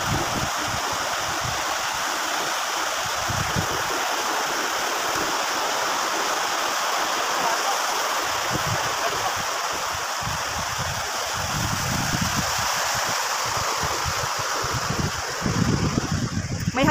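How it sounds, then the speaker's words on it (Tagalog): Water rushing steadily down at a dam reservoir along a river hiking trail, a continuous broadband roar with a faint gust of wind near the end. "Pababa na yung tubig."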